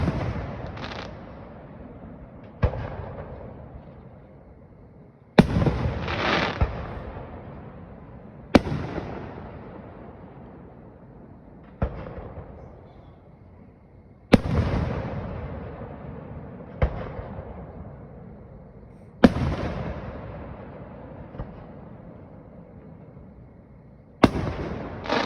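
Festival fireworks in Rensselaer Falls, New York, burst one at a time, about ten sharp booms spaced a few seconds apart, each trailing off in a rumbling echo, fairly close and loud with no talking.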